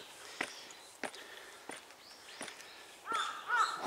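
Crows cawing repeatedly overhead on a walk among old burial mounds near a shrine in rural Japan, sharp calls spaced about every half second, then a louder cluster of caws near the end, with faint footsteps beneath.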